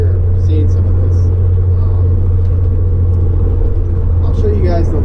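A 1987 Chevrolet S10 pickup with a 2.8L engine and a loud 3-inch exhaust idles or runs steadily, giving a constant deep, throbbing drone close by, with faint background sounds over the top.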